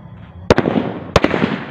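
Two firecrackers burst in close succession near the listener, each a loud sharp bang followed by a short crackling tail, with a noisy outdoor background between.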